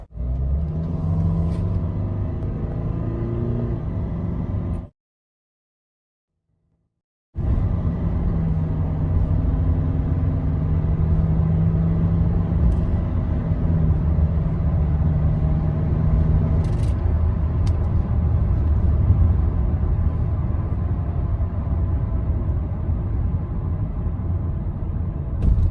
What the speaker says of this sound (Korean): 그러면 100km 가속 한번 해볼게요.